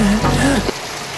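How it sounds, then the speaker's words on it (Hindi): Heavy rain pouring down at a village home, a dense steady hiss that continues throughout, with a voice talking over the first half. "यहाँ पे तो बहुत तेज बारिश है"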